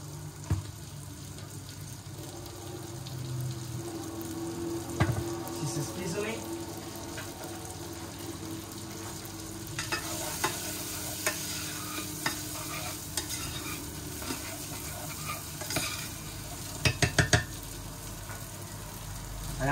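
Basa fish fillet frying in butter in a pan with salt, a steady close sizzle broken by scraping and stirring clatters and a few sharp utensil taps near the end.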